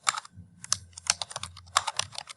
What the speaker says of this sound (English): I'm just typing the information.